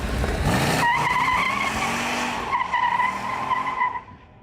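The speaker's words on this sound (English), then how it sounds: "bias-ply Goodyear polyglass tires, while correct for the car, are easily overpowered by the 440" 1970 Plymouth Cuda convertible with a 440 engine overpowering bias-ply Goodyear Polyglass tires, a loud, sustained tire squeal over a roaring engine that fades out after about four seconds.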